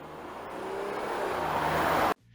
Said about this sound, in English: For instance, let's take this car pass by.